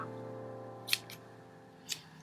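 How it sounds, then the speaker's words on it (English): Two crisp scissor snips about a second apart, close and sharp, cutting a piece of yarn, over a quiet steady hum. "cutting this piece off of yarn with my scissors"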